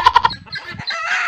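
Chickens cluck in a large hen house, three sharp, close clucks up front followed by a softer, busier stretch of scattered hen calls and rustling, with no voices.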